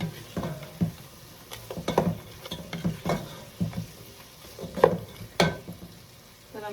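Low carb sausage stuffing being stirred in a pan, uneven bursts of scraping and soft clatter at an irregular rhythm over a faint sizzle, close by.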